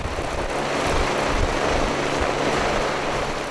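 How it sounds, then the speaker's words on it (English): A helicopter brings a pilot out to the huge container ship Mary Mærsk far out at sea. Its rotor and engine make a dense, steady roar that stays constant and fairly close. "the pilot, he would be arriving by helicopter."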